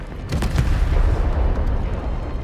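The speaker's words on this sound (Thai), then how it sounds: "แบบใช้ระเบิดปาเข้าไปเลยสินะ" A bomb goes off in the video game Arknights: Endfield, bringing a short burst of sharp cracks followed by a loud, rumbling, sustained low roar.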